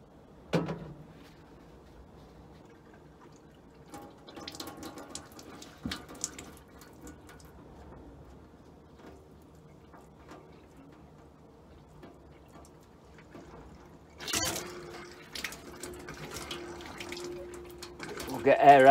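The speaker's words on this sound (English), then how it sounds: "That's the bathroom taps running free of air." A caravan bathroom tap sputters and coughs while air is bled from the water system, spitting bursts of air and water at first and later near the end, with quiet rumbling and handling noises between.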